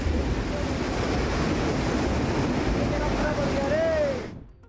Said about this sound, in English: After strong waves, a large amount of sea foam washed up on the shore.